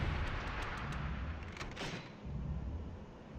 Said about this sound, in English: Not a great shot, but bomb's pretty big.